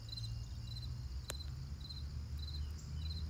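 A cricket chirps outdoors at around 65 degrees, giving short, evenly spaced chirps about every half second over a low, steady background hum.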